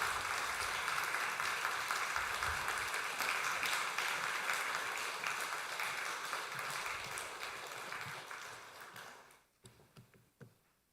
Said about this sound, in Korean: 다시 한번 박수로 축하하겠습니다